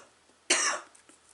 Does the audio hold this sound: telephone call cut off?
no